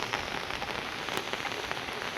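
Steady rain falls outdoors where goats stand, making a dense, even patter on the ground and other surfaces with no speech.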